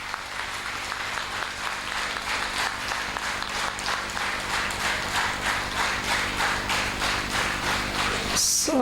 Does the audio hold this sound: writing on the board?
no